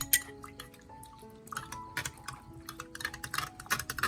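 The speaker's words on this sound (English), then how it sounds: "I'll strain out the residue." Soaked apple peel and rice mixture being strained, with close, irregular drips and small clinks and taps of a container, with faint ringing tones in the background.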